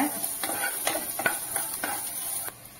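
A spoon stirs chopped ginger and onion in a hot pan for rava idli, a run of six or so rhythmic scraping strokes over a light sizzle, close and fairly loud, with no talking.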